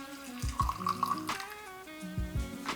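Warm dark rum, about 30 ml, is poured into a glass warmed in a hot-water bath while making a Spanish coffee. It makes a soft, close trickle over a steady musical background.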